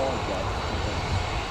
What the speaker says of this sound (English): Jet2 out next